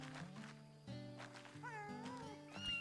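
Cat meowing in the medieval video game Pentiment, with drawn-out wavering meows over steady background game music and no talking.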